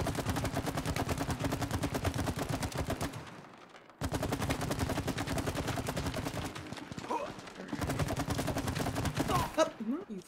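Rapid automatic gunfire rattles in long sustained bursts in the co-op video game It Takes Two, cutting off abruptly and resuming after a short gap, then thinning out toward the end.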